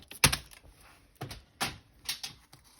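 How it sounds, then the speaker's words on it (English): Paper trimmer slicing cardstock in half, a few sharp clicks and scraping swipes of the blade in an irregular sequence, close and fairly quiet with no voice. "Grab your trimmer and we're going to cut that in half."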